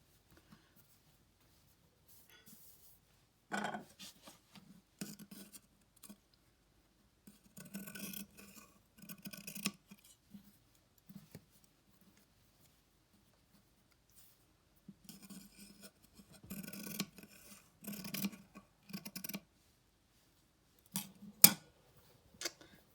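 Scissors snip a rough 10 centimetre square from the corner of a piece of craft fabric for a toy octopus, giving quiet, close cuts in short, irregular bursts separated by pauses, with no talking.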